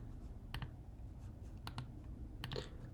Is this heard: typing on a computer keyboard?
yes